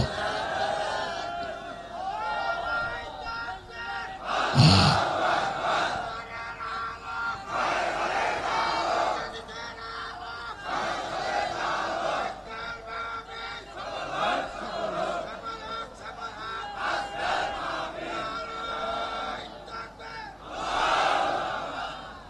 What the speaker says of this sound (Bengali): সবাই একটু তাকবীর দেন তো দেখি